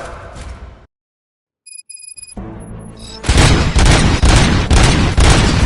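Gunfire in the video game RoboCop: Rogue City breaks out after a brief silence and electronic beeps, a loud rapid burst of repeated shots filling the last seconds.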